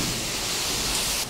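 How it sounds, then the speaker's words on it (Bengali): Heavy rain pours outdoors as a dense, steady, even hiss with no pauses and no voices. "বৃষ্টি দেখেন কেমন বৃষ্টি নামছে, এত বৃষ্টি"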